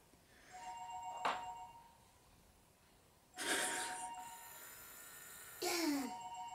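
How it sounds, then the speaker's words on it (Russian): An alarm clock rings indoors in a few short, faint electronic bursts spaced a couple of seconds apart, with a voice and quiet chatter nearby. "О, будильник звонит."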